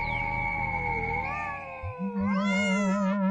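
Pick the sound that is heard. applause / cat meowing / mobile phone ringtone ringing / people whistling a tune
cat meowing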